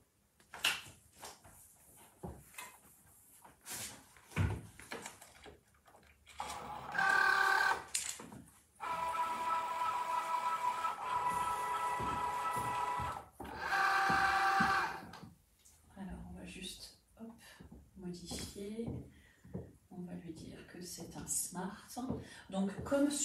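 A Cricut Joy cutting machine slices matte iron-on flex for a Christmas stocking, a steady mechanical whir in two long runs with a pause between, preceded and followed by close talking.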